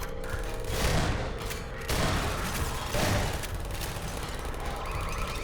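Automated turrets in Half-Life 2 fire rapid, dense bursts of gunfire in several loud waves, chattering over a mechanical background din.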